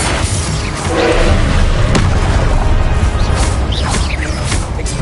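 The Confringo spell blasting in Hogwarts Legacy: a loud, close burst of booming, crashing impacts with crackling magical debris, continuing for several seconds.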